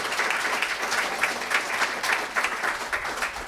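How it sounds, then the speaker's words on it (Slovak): Enthusiastic applause for a young jazz pianist at a Slovak talk-show event, a steady wash of many hands clapping with rhythmic surges, close and loud, with no voices over it. "takisto poprosím veľký potlesk"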